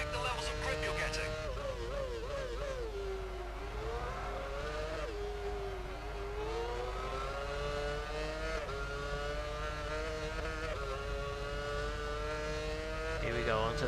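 An F1 race car engine on a lap at China in F1 Championship Edition, a high steady whine that rises and dips through gear changes and throttle shifts, loud and continuous, with a voice talking over it at times.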